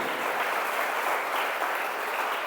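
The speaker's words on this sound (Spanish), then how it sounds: "Denle un aplauso al Señor por eso." A church congregation applauds steadily, dense clapping filling the space at a moderate distance with no speech over it.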